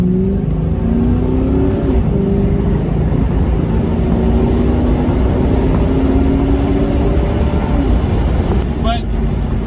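A 2-valve New Edge Mustang GT V8 with a freshly installed throttle body idles steadily, a low continuous engine drone with a faint rising tone running under it from start to finish.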